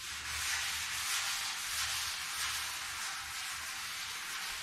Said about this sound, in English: So I'm going to get to sanding this tailgate.